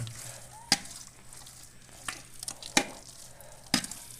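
Rice flour porridge batter for crisp onion vathal being stirred and mixed by hand, a few sharp scraping knocks of a spoon against the vessel over soft, wet stirring, close and alone.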